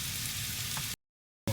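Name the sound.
bacon and garlic frying in a pan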